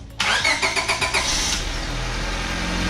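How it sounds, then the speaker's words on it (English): A 2000 Honda Civic engine is started after an oil and transmission fluid change: about six rhythmic starter cranks, then the engine catches and settles into a steady, close idle. "I'm going to start the car and let the oil and fluid circulate in the transmission and engine"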